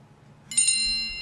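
The iPhone iOS 6 "Chime" text alert tone: a bright double strike of high chime notes that rings on and slowly fades, clear and close.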